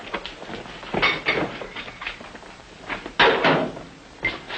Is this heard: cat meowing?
no